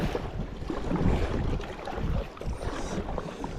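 Wind roars across the microphone with waves lapping around a heavily loaded kayak on a lake, a steady, rushing wash with no distinct strokes.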